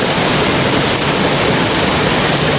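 Water rushes at a waterfall on Mount Makiling after days of rain, a loud, continuous broadband roar that never lets up and carries no talking.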